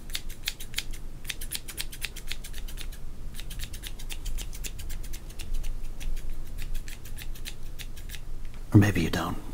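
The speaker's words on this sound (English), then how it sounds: "Maybe you enjoy the sounds of scissors." Rapid, crisp snips of scissors cutting repeatedly close to the microphone, steady rhythmic bursts with a brief pause midway, ending in a soft rustle.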